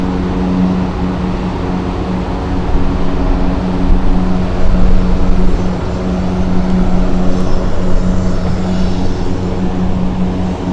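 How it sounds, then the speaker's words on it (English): An airliner departing Helsinki Airport for Oslo rumbles steadily, a loud continuous engine drone with a low hum that swells slightly midway, heard alone without talk. "That is the Oslo flight departing"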